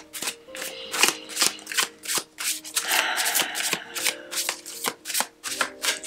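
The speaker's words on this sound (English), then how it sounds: "Now let me shuffle one more time." A deck of cards is shuffled up close in quick rhythmic bursts of riffling and snapping, with a longer continuous riffle in the middle, and no voices.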